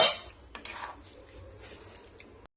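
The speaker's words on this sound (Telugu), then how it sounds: "మనము 1 minute వరకు మనము ఇలా మిక్స్ చేసుకుంటూనే ఉండాలి." Pasta being stirred in a pan, with a brief metal clatter of utensil on pan at the start followed by soft, faint scraping and stirring movements.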